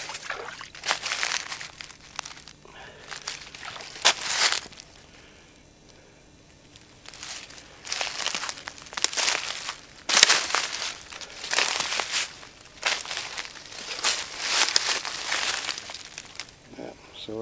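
Footsteps walking down a rocky creek, with irregular crunching and scraping steps on stones that come in bursts and pauses and sound close, along with faint trickling water.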